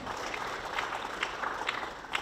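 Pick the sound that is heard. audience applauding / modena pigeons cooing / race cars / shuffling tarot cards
audience applauding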